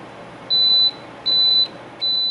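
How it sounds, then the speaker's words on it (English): Three steady electronic beeps from a slow cooker at the end of its cycle, each held for about a third of a second, evenly spaced over a quiet background hum. "the crock pot finished its cycle, counted down, it started beeping"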